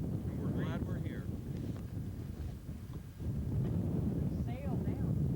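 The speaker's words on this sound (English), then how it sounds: "Looks like the wind's going in the right direction for a good sail." Wind buffets the microphone on a sailing trip along the Quoich River, a constant low rushing rumble that swells and dips, with faint chirps now and then.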